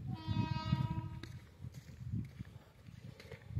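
A Kacheguda–Raichur passenger train pulls into Makthal railway station. A loud tonal horn blast sounds for about a second at the start, then a steady low rumble of rolling wheels continues with faint clanks.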